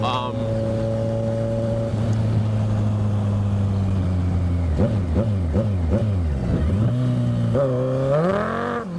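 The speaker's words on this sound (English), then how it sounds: "That's the traction control kicking in, just for a test." A 2014 Kawasaki Ninja 1000SX with about 76,000 km holds a steady engine drone, then traction control cuts in, making the revs stutter and bounce in quick repeated dips before climbing again. Loud and close.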